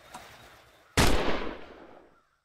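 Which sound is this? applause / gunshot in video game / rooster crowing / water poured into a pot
gunshot in video game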